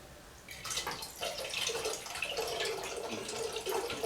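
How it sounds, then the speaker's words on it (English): Photographic fixer is poured back into its container after developing found Kodak Verichrome 126 film, a steady liquid splash and trickle running for several seconds, close and clear. "and pour the fixer"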